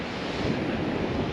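Strong gusting wind on a beach at Nash Point, South Wales, buffeting the microphone with a loud, steady, broadband rumble and roar with surf mixed in and no talk.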